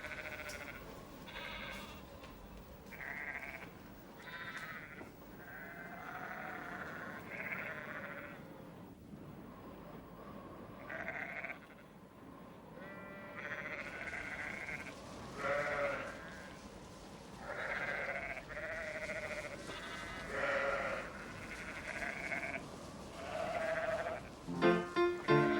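A flock of sheep out in the snow bleats repeatedly, many overlapping calls rising and falling at a moderate distance, with no talking over them.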